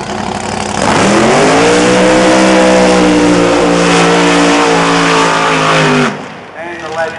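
A drag racing car at a qualifying meet holds a loud, sustained high-revving burnout with tyres spinning and smoking for about five seconds, then the roar cuts off abruptly, with commentary voices over the top.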